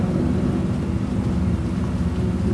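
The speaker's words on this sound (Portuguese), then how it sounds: "Sempre tem que estar chovendo." Steady, dense video game rain roars with a low rumbling undertone of distant thunder, constant and loud throughout.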